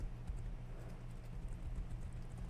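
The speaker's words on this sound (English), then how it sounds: "The horse is on the other side, okay." A horse's hooves clip-clop at a steady walking rhythm in the online game Dungeonborne, continuous and fairly close over a low game rumble.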